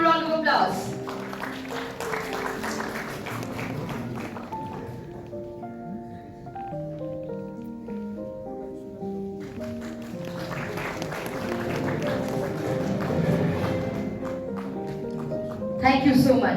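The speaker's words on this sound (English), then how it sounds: "Can we have a louder round of applause?" Audience applause at an energy industry awards ceremony, a broad patter of clapping under music and a voice over loudspeakers, swelling again near the end.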